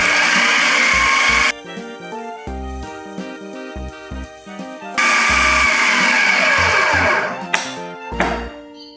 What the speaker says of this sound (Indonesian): Kita masukkan lagi telur terakhir ya. Kita kocok lagi sampai benar-benar halus.